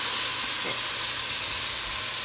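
Prawns frying in a pan on low heat for a Sri Lankan drumstick prawn curry, a loud steady close sizzle with a faint stir partway through.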